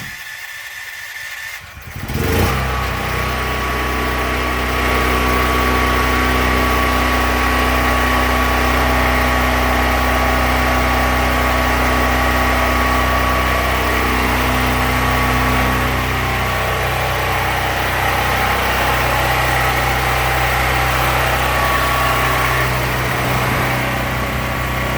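An enclosed DuroMax 13000EH backup generator engine starts and then runs steadily at a loud, even drone with a constant hum, close by, with no talking.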